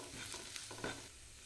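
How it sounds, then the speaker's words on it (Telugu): Ground spices such as coriander powder and garam masala frying in a pan for kaju paneer masala, a soft continuous sizzle with a couple of quick spatula scrapes, quiet and close. "ఈ మసాలాలన్నింటినీ ఒక నిమిషం పాటు ఫ్రై చేసుకోవాలి"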